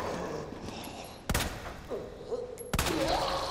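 Two sharp, loud gunshots from Ada Wong's pistol in Resident Evil 2 ring out about a second and a half apart over a quiet game backdrop.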